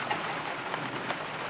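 Rain falls steadily outside, heard from indoors through open doors as an even, soft hiss with scattered drops and no voices.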